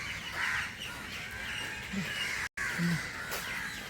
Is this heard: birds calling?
yes